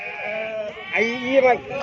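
A sheep at a sheep market bleats loudly and close by in a wavering, drawn-out cry, with a second bleat following.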